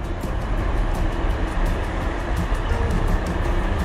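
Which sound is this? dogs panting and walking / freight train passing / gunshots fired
freight train passing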